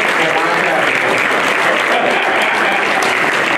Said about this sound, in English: Okay, everybody, let's clap, let's clap, let's clap